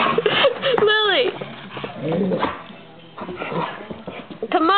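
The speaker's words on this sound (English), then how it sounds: "Lily, come out, puppy." Puppies whimper, yip and bark in quick, overlapping bursts indoors around a table and chairs, close and loud, while a person keeps talking over the noise.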